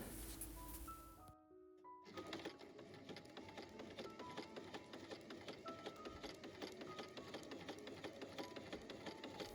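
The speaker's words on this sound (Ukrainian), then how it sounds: "потім йду на швейну машину і фіксую строчкою" A sewing machine stitches a seam on a bias-cut skirt. A short clatter of handling comes first, then the machine runs in a fast, even rhythm of needle strokes, close and steady throughout.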